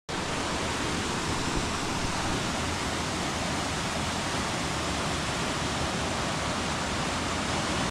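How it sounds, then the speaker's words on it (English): Mini waterfalls tumbling over layered rock on the River Wharfe in the Yorkshire Dales, giving a steady, dense, close rush of falling water that stays unbroken throughout. "I absolutely love the layers of the rock you get creating all those mini waterfalls."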